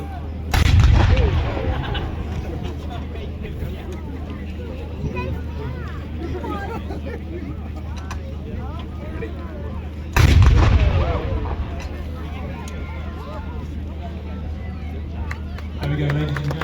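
A 6 pounder anti-tank gun fires twice at an outdoor military display, each shot a loud, booming blast about ten seconds apart, with crowd murmur and a steady low engine-like rumble underneath.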